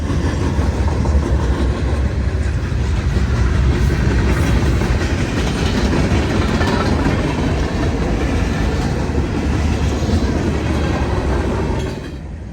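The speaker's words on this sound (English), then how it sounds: "This train, now occupying the single track into Greenville, has gained complete control over the line." A freight train rolls along the single track into Greenville, South Carolina, a loud, continuous rumble of wheels and cars with clickety-clack rhythm close by, holding steady throughout before easing slightly at the end.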